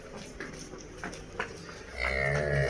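A buffalo cow, a good-bodied dairy animal giving over ten litres of milk, lets out a low drawn-out moo near the end, close and fairly loud over faint outdoor farm background.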